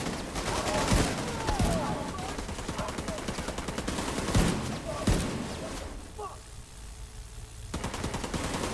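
Rapid bursts of gunfire crack out in loud volleys, with sharp reports and rattling fire repeating across the scene before a brief lull and a return of dense shooting.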